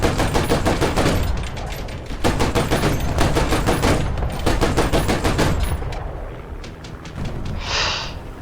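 Rapid automatic gunfire from a P.7.T anti-aircraft weapon in a video game, loud, dense bursts of shots that keep going while reloading and then thin out near the end.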